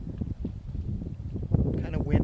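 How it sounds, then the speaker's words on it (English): Wind gusts at Fawn Lake in the Diamond Peak Wilderness of Oregon, rumbling against the microphone in uneven low buffets while a person talks throughout. "Kind of windy on the lake"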